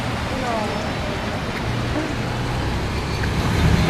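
Many cars pass on the roads by the College of William and Mary campus near Merchant Square, Colonial Williamsburg, making a continuous broad roadway rumble with a voice over it.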